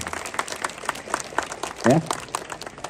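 Audience at a religious discourse gathering claps in scattered bursts under a steady murmur of voices, the clapping moderate and somewhat distant, with a brief louder voice near the end.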